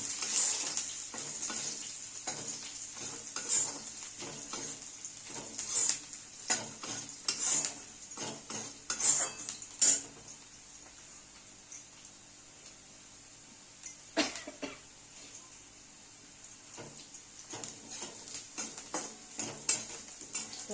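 Sliced onion fries with a pinch of salt in a pan, a soft sizzle running throughout while a spatula scrapes and clatters against the metal in irregular bursts, louder in the first half and sparser later.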